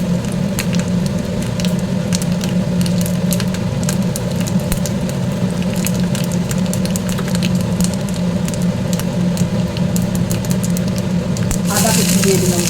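Whole spices sizzle steadily in hot oil for a dal tempering: dried red chilli, bay leaf, cinnamon, cardamom, cumin, fennel and asafoetida. The frying is loud and continuous, with fine crackles throughout and a brief brighter hiss near the end.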